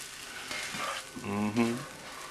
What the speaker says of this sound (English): Give that a nice big stir.